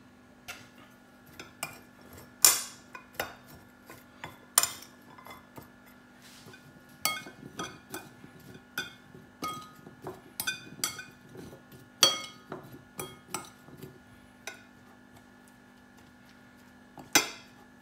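Chicken is stirred with flour in a bowl, a utensil clinking and tapping against the sides in irregular bursts, fairly close.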